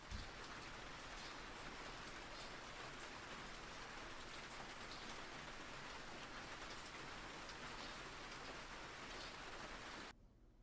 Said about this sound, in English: we've got the rain sounds